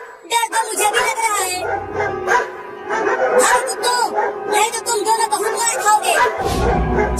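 Cartoon dogs bark and yip in short bursts over a busy comic soundtrack, with excited voices chattering almost throughout.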